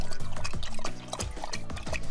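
Water gurgles and splashes in quick uneven bursts as a dog's portable water bottle is squeezed, soft liquid drips and sloshes up close with no talk.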